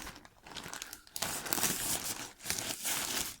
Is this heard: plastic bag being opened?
yes